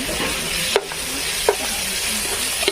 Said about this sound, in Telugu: అల్లం వెల్లుల్లి పేస్ట్ వాసన పోయేంత వరకు మనం వేయించుకున్నాం